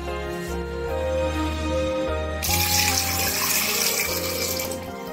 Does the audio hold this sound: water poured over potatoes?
yes